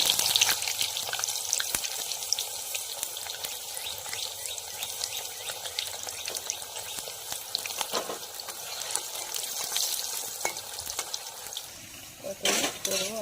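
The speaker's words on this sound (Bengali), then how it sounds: "বেগুন ভাজা হচ্ছে" Eggplant slices fry in hot oil with a continuous crackling sizzle, scattered pops and a few clatters near the end, heard up close during a home puja meal preparation.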